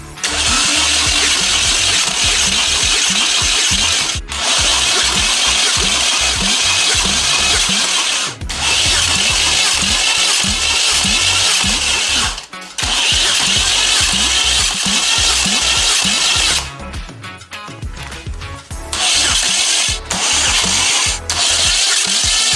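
Junkyard GM Ecotec engine on a stand, powered by a Mazda Miata battery, cranks repeatedly in loud, steady bursts with brief pauses between attempts, then catches near the end with rougher, uneven running.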